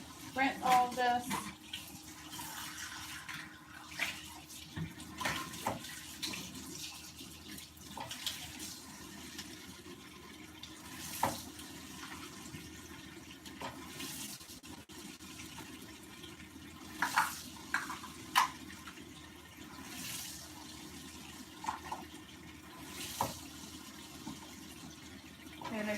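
Tap water running in a sink while baking dishes are rinsed, a low continuous splashing with clinks and knocks of dishware, moderately close, and a voice talking at times.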